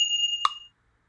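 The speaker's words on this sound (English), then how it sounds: "manjira and woodblock" A manjira's sustained metallic ring sounds together with a short hollow woodblock knock, a single Carnatic metronome tick struck once, close and clear, then silence.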